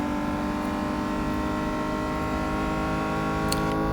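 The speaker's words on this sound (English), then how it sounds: "where we can really check out the way the car's engines sound" A steady, droning BMW M2 Competition engine in the racing game Real Racing 3 hums continuously at high revs, with a dense, even tone and no talking.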